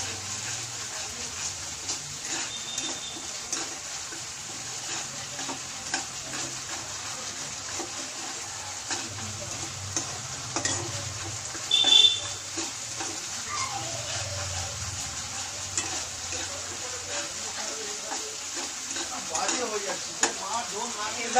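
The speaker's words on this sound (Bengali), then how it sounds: "এবার মশলাটা একটু কষিয়ে যাক।" Masala spice paste for doi begun sizzles steadily in oil while being stirred, a soft continuous fry with occasional scrapes, close and moderately quiet, no talk.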